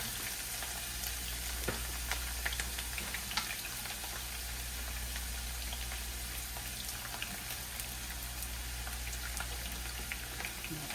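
Onions frying in a pan for Jamaican fried yellowtail snapper, a steady close sizzle with scattered crackles and pops running throughout, no voices.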